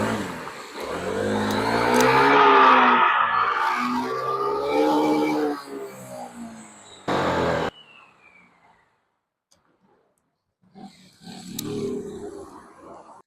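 A Voge SR3 scooter's engine revs up loud and close, holds a rising drone for several seconds, then drops off to near silence before a shorter burst returns.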